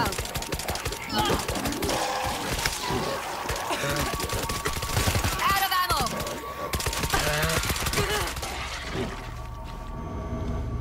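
Dense, continuous gunfire from a World War Z zombie attack in a sewer, with layered shots, breaking and crashing impacts, and game voices calling out over the din.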